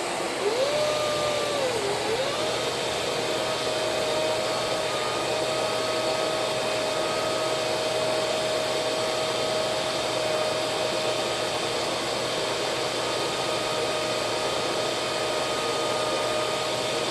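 A Bosch Premium Electro Duo XXL vacuum cleaner runs on maximum with all filters fitted, a loud, steady, continuous roaring whoosh of airflow with a thin whine whose pitch wavers briefly at the start, then holds steady.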